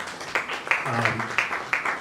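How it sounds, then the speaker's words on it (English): Moderate applause from an audience at a formal event, scattered claps with a few sharper hits, briefly overlapped by a faint voice. "A round of applause for him, please."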